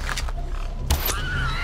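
A pig in the video game Far Cry 4 gives a short grunt partway through, close and fairly loud over a low, steady ambient game rumble.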